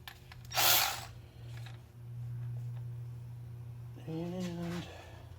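A Milwaukee 12V cordless ratchet whirs in short bursts against stubborn water pump bolts on an old engine, the motor buzzing steadily then straining in a higher tone without breaking them loose.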